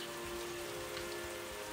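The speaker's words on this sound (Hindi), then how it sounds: "तभी अचानक तेज बारिश आने लग जाती है।" Heavy rain pours steadily in a forest, a dense, even hiss of drops on surfaces with a constant wash and no voices.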